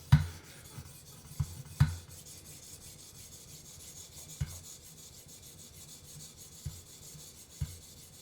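A Buck 560 knife is drawn across a 1,000 grit sharpening stone in soft rasping strokes, with a few sharper knocks near the start and some scattered later. The sound is close, quiet and without talk.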